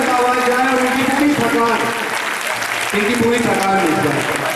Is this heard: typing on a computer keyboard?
no